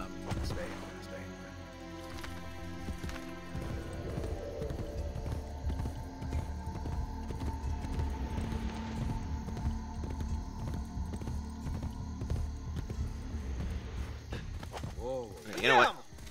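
Horse hooves clip-clop at a steady walking rhythm in the video game Assassin's Creed Brotherhood, continuing for many seconds amid other game ambience, with a brief louder swell near the end.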